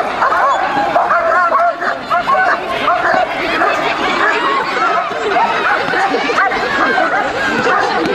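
Police tracking and escort dogs bark repeatedly at an outdoor police demonstration, the yips and woofs mixed into a dense, loud crowd chatter with people talking throughout.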